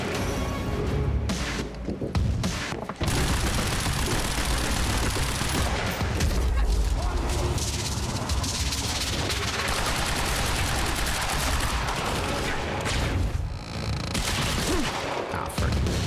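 Sniper gunfire in the video game Quantum Break, a dense, loud barrage of shots and booms that keeps up almost without a break, with a few brief lulls early on.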